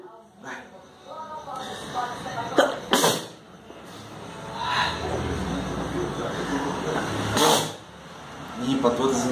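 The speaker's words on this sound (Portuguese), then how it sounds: "Essa porra é pra espirrar" After snorting rapé snuff, a man lets out several sharp sneezes and coughs in bursts, with breathing and throat noises in between, close to the microphone.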